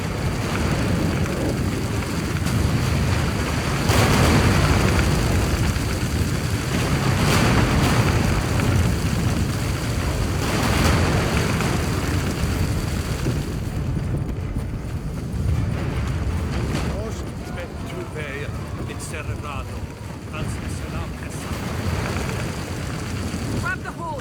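An earthquake in The Witcher III: Wild Hunt: a heavy, continuous rumbling roar with crashing bursts, dense and loud throughout, easing slightly toward the end, with voices shouting beneath.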